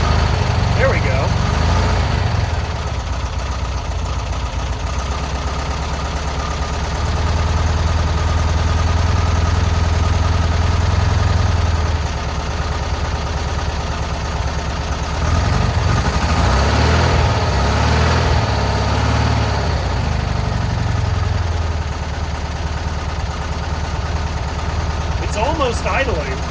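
An old VW Bus engine neglected for thirty years runs at a rough, near-idle, its exhaust partly refitted, giving a steady loud low rumble throughout with slight surges, while voices talk over it.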